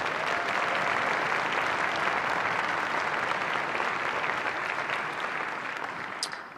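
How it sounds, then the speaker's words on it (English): A crowd at a high school holiday concert applauds the percussion section, a dense, loud, sustained clatter of many hands that fades slightly toward the end. "Round of applause for the percussion section."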